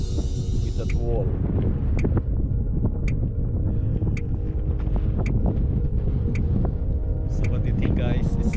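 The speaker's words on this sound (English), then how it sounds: "It's so windy here." Strong wind buffets the microphone in a constant low roar, with occasional clicks and faint talk underneath, at a lakeside campground with coral and seashells.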